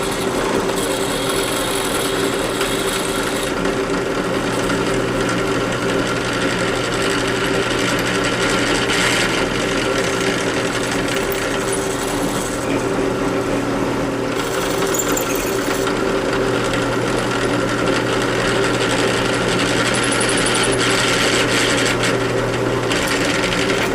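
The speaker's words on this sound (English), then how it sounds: "we're going to drill these two holes through, replace these pins" A drill boring holes through metal for handle pins, a steady close mechanical whir running continuously with slight changes in pitch and load, no talk.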